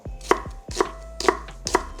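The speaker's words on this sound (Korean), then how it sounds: "양파 하나는 슬라이스 썰어 주는데요" A knife slices an onion into thick slices on a cutting board, four evenly spaced thuds with crisp slicing, close up and with no talking.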